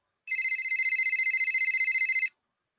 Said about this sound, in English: Hold on a second. That's my phone.